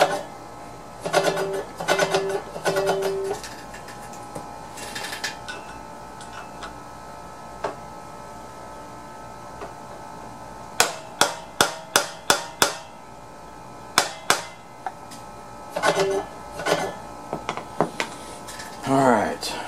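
Rhythmic ticking and clattering from Tru-Cut reel mower blades being lapped, turning in short bursts with sharp metallic clicks near the mic, alongside a person talking.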